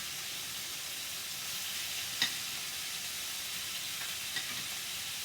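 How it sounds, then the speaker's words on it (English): Chicken pieces searing in a crowded pan for kung pao chicken give a steady, moderately loud broadband sizzle with a couple of brief louder pops, and no voices. "I love that sizzle!"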